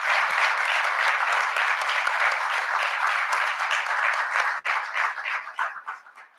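Audience at a museum exhibit gives a round of applause, dense steady clapping from many hands that thins into scattered claps before ending.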